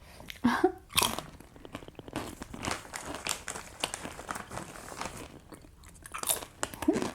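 Close, crisp crunching and chewing of potato crisps, with repeated bites and loud crackles, in a cosy indoor setting. The sound is steady throughout, with no talking.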